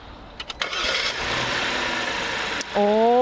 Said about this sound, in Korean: 이 물병을 올려두고 시동을 걸어보겠습니다